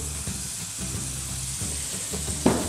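Butter sizzles and crackles steadily in a hot frying pan at close range, a continuous soft frying hiss with no talking over it.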